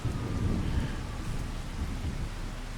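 Steady rain and a low thunder rumble in a Farming Simulator 25 field, a dense even hiss with deep rolling energy, loud and continuous without speech.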